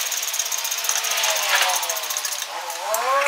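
Power tool, likely an impact wrench, tightening 19mm brake bracket bolts on a rear brake job on a 2010 Nissan Murano; a steady loud rattling buzz, close, with a rising whine near the end.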